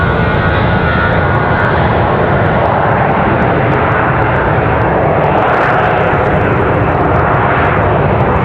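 A Southwest jet airliner at Raleigh-Durham airport, doing a quick turnaround, fills the air with a loud, constant broadband roar close by. It holds steady without letup throughout.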